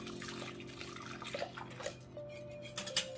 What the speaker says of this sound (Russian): Выливаем еле теплое молоко с растаявшим сливочным маслом.